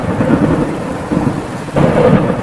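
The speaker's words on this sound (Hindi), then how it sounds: "ये बारिश तो बढ़ती ही जा रही है।" Heavy rain pours steadily for a cartoon sound effect, with low thunder rumbling beneath it and a louder thunderclap swelling in near the end, a storm of the kind that threatens crops.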